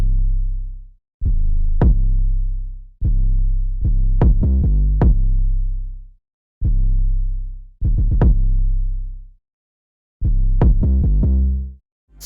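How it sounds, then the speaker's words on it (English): Busier 808 bass line in a hip-hop beat, with extra hits on the root note and a quick triplet roll: a loud, repeating run of deep booming bass notes and punchy kicks in several phrases, with short gaps between them. "We've just added a few more 808s"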